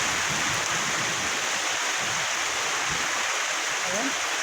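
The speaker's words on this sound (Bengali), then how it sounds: "দেখেন কি পরিমাণ বৃষ্টি হইতেছে" Heavy rain pours down steadily during a thunderstorm at a village home, a dense, loud, unbroken hiss close around, with faint low rumbling beneath.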